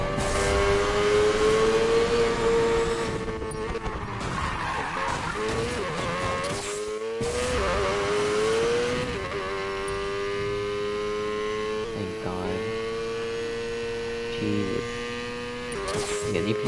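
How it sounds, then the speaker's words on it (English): A car in the racing game Need for Speed Payback accelerates hard, its loud, buzzing exhaust note climbing and dropping through gear changes, with tire squeal and skidding mixed in, all close and continuous. "Acceleration exhaust."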